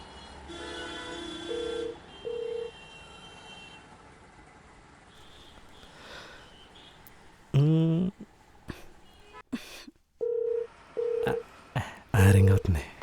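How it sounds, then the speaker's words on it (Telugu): Phone keypad beeps of someone dialing a call, several tone blips in short bursts near the start and again later, with a louder run of electronic tones around the middle over a quiet background. "అమ్మాయికి కాల్ చేసి సారీ చెప్తాం."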